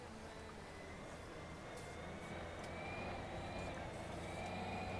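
A Bizon combine harvester's engine idles after starting, giving a faint, steady mechanical drone with a slight tonal whine that holds constant and swells a little toward the end.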